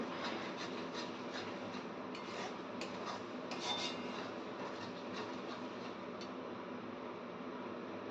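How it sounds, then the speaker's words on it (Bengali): A spoon scrapes and stirs spice masala as it sautés in a pan for a home-style Indian chicken curry. The rasping, rubbing sound is faint and continuous, with small clicks against the pan. "এবার মশলাটাকে কষিয়ে নিচ্ছি"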